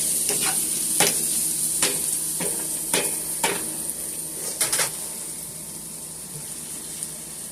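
Spinach cooking down in a pan, a steady hissing sizzle close by with a series of sharp stirring taps and scrapes in the first five seconds, then quieter, no voices.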